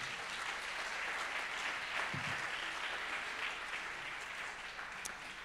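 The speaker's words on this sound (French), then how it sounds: "Et je voudrais qu'on les applaudisse très fort tous les 4." Steady, moderately distant applause from an awards ceremony audience, even and sustained for several seconds without voices.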